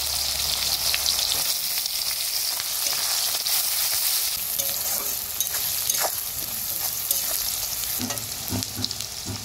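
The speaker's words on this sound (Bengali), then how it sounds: "এখন দেখো পেঁয়াজ দিয়ে দিচ্ছি।" Onions added to hot oil in a pan after the chilli tempering give a dense, close sizzle throughout. Scraping and stirring knocks rise toward the end, and there is no talk.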